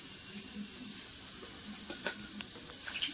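Potatoes fry in oil in a kadai with a soft, steady sizzle, marked by a few brief crackles and stirring scrapes near the end, quiet and close.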